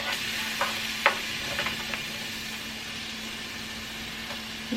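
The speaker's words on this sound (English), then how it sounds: "I'm gonna put some of the minced garlic into the pan" Minced garlic sizzles softly in a pan, giving a steady faint frying hiss broken by a few light clicks as a utensil stirs it.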